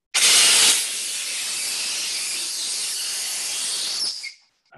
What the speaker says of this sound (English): So this is a rocket balloon. I'm not sure if I should shoot this one or pop it.